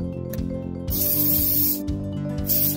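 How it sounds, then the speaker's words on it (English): Release spray hisses onto a rubber jewellery mold in two sustained bursts, close and fairly loud, over a low steady background hum. "So we will be using the spray like this."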